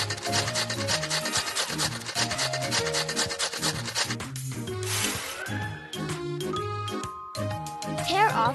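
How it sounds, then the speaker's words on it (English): Pizza ingredients are grated in a Masha and the Bear cartoon game, a rhythmic, repeated rasping scrape over bright game music with jingling effects. "Now, let's prepare the ingredients. We need to grate this."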